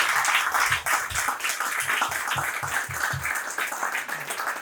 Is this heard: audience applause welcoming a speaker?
yes